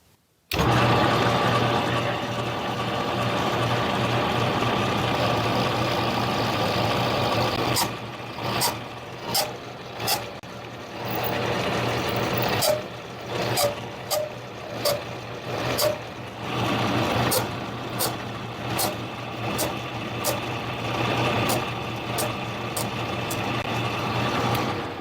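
Brass workpiece being drilled through on a small mini lathe: a steady motor hum runs throughout, broken midway by a series of sharp, irregular bursts as the drill grabs and catches in the brass, close and fairly loud.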